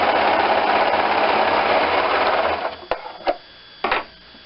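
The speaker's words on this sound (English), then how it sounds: "serging off the very edge of the foam." A serger sewing machine runs in a loud, steady burr as it trims fabric and foam along the edge of a collar, then stops and restarts in a few short bursts at close range.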